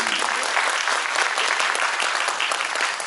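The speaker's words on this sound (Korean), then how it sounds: "박수 한번 부탁드립니다." Dense, even applause from members of a Korean food storage and distribution society, a loud continuous wash of many hands clapping for a founding professor emeritus, held steady throughout with no talk.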